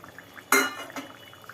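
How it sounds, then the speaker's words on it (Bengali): Hilsa fish and eggplant pieces dropped one at a time into a pan for mustard hilsa curry, giving a single sharp clattering hit followed by a brief sizzle and a softer second touch, close up with no talking. "একটা একটা করে মাছ বেগুন দিয়ে দেওয়া হলো"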